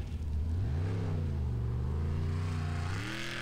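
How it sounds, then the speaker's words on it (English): Formula offroad car engine howling at full throttle during an Icelandic competition run, a loud sustained roar whose pitch climbs, dips and surges again as the engine pulls hard. "Full throttle here, goes for the push"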